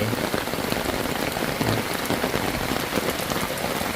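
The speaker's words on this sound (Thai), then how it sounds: "ฝนตกลงมาสักก่อน" Steady rain pours down at a campground in Saraburi, a dense, even hiss of drops drumming on surfaces that continues unbroken and fairly loud from start to finish, with no voices.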